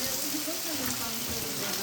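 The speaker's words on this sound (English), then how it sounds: "But I've never been in the clouds when it rains." Rain falling in the mountains amid low cloud, a steady broadband hiss throughout the short stretch, with a voice talking underneath.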